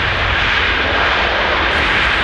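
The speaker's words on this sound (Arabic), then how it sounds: "تابعنا طياره اخرى" An airplane in flight gives a loud, steady engine drone with a broad roaring hiss, unbroken throughout and without voices.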